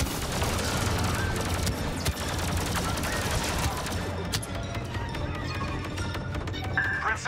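Blaster gunfire in a Star Wars Battlefront 2 firefight, dense rapid volleys of laser shots crackling continuously and loud, thinning toward the end with a few sharp isolated bursts.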